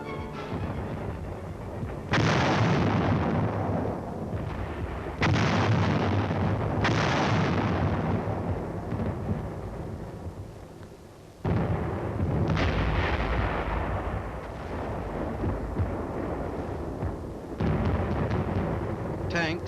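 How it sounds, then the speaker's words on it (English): 155mm artillery guns fire from a forward position in Korea in 1951, with four or five heavy booming blasts at intervals, each followed by a long rumbling decay. "the big guns from this forward position concentrate their fire on known and suspected targets"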